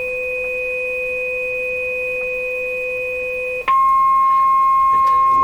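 A B&K 1040 CB ServiceMaster puts out a steady two-tone audio test signal: a sustained pair of pure tones that shifts abruptly to a different, louder tone pair partway through.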